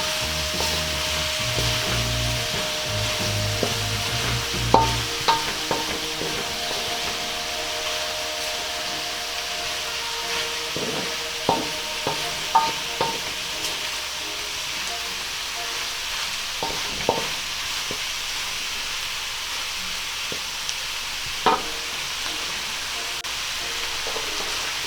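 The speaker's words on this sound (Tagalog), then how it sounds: "Tapos, paghahaluin po natin ulit para kumapit yung lasa ng kamatis" Beef and tomatoes sizzle steadily in a pan for beef mechado, with repeated scraping and clinking as the mixture is stirred, close and continuous with no talking.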